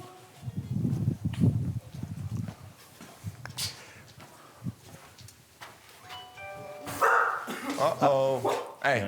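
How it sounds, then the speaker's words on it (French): A dog barks a few times, mixed in with people talking and chatting nearby. "Un chien."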